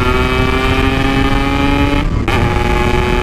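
A Yamaha RX King two-stroke motorcycle screams at full throttle, a loud, sustained high-revving whine with a brief dip about two-thirds through before the engine picks back up, close to the listener.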